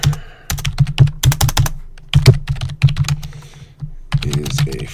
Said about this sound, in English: Let's just type a few things in here.